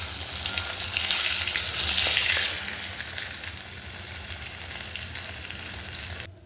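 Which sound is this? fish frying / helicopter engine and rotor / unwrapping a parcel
fish frying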